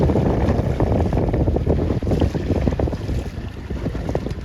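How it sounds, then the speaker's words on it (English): Strong, continuous wind roaring across the microphone out on the water at a C420 sailboat regatta, loud and gusty with no voices. "This looks like really nice wind."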